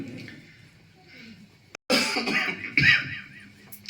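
A preacher giving a sermon coughs and clears his throat loudly, close by, in a short fit following quieter speech.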